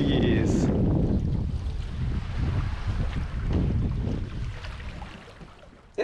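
A sailboat cruising through the Whitsundays, with a steady rush of wind and water against the hull that slowly fades toward the end and ends in a brief bump.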